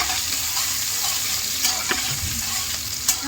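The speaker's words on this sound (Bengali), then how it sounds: "পেঁয়াজটা আমি একটু লাল লাল করে ভেজে নেব" Chopped onions frying in a pan for chicken curry, with a continuous close sizzle broken by a few sharp scraping stirs.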